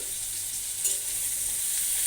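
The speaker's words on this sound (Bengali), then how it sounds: "তেলটা গরম করে চিংড়ি মাছটা দিয়ে দিয়েছি" Shrimp frying in hot oil with a little turmeric, a loud, dense, continuous sizzle with a brief stirring scrape near the middle.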